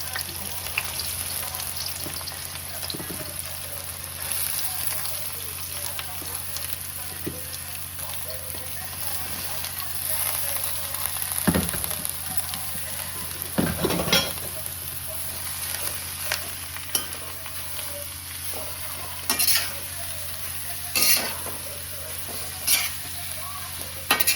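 Five onions fry in oil over a high gas flame and are stirred with scraping strokes, giving a loud, continuous sizzle with intermittent sharp clacks of the utensil against the pan.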